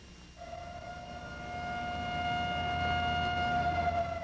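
A civil defense siren sounds on Tybee Island as a hurricane approaches, a steady sustained wailing tone that swells and grows louder over a few seconds, heard from a distance with no talk.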